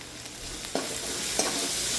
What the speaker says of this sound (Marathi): मसाले सारखे परतून घ्या